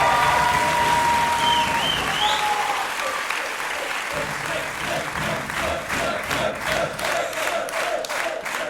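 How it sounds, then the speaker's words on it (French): Audience at The Reveal Show 2024 applauding its nine coaches, a loud, sustained crowd ovation with cheers and a whistle early on, settling into rhythmic clapping in unison toward the end. "je pense qu'on peut applaudir nos 9 coachs"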